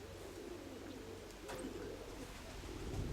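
Soft white and Crimean pigeons cooing at a distance, low and steady, over a constant wind-like rumble.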